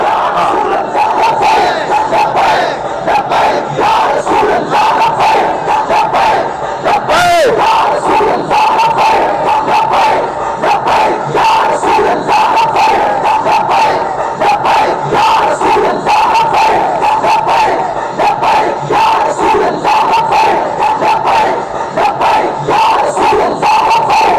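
A dense crowd at a religious-political rally in Pakistan chants a slogan loudly and continuously, voices merging into a steady roar with rhythmic shouted pulses throughout.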